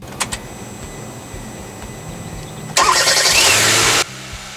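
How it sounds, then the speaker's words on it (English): A Kia Soul engine with a newly replaced starter cranks and catches with a loud burst, revving for about a second before settling to a quieter idle. "connect your battery and start your car"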